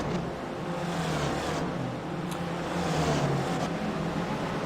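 Racing cars in a sim-racing game at Okayama, one drafting another down a long straight, give a steady, loud engine drone with a low rumble that barely changes from start to end, and nobody talks.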